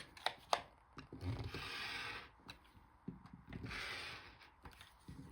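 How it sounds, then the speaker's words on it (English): A paper trimmer slicing along two sides of a sheet of card, two soft rasping blade strokes with a few light clicks and taps around them, close and quiet. "I'm just going to trim 2 sides from here."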